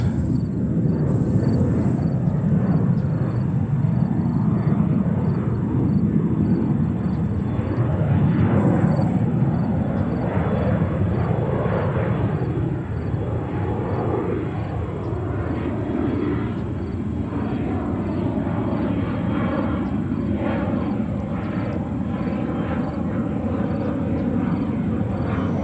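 An Embraer 175 airliner in original Republic Airways colors roars steadily at New York JFK Airport, a loud, continuous broadband engine rumble sustained throughout without talk.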